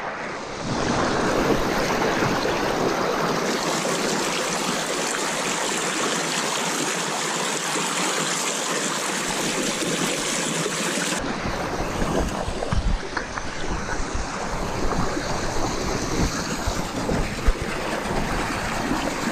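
River water from the Torrente Cervo rushes steadily into a gold-panning sluice box, a loud continuous churning wash that deepens and roughens partway through.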